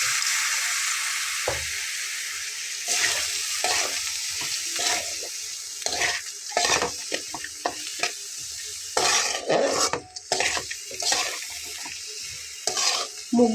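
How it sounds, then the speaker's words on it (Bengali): Vegetable stalks and masoor dal stir-fried in a pan, a continuous loud sizzle broken by scraping stirs and clatters of the spatula against the pan, with no talking. "ডাঁটাটা দিয়ে খুব ভালোভাবে কষবো"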